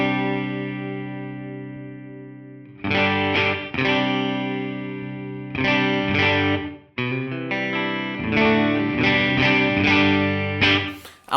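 Electric guitar through an HX Stomp amp snapshot with effects, distorted chords ringing out after a sustained note, then rhythmic strummed and muted passages, loud and close, with no talking.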